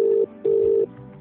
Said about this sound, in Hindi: चलो नंबर घुमाओ भाई।